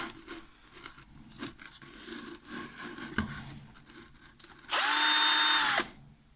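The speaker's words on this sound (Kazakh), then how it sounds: "Дрель. Кәдімгі қол дрель." Hand-held electric drill boring holes in a trough for watering bees, a steady high whine running about a second after quiet handling and tapping sounds, close and loud.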